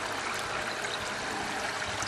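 Water flowing down a garden pond waterfall, a steady trickling and splashing wash heard close and alone.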